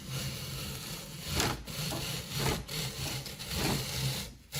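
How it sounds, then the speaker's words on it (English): Apples being peeled with a hand-cranked apple peeler, a close, continuous scraping rasp with rhythmic surges as the crank turns, no talking. "So I'm going to be peeling the apples"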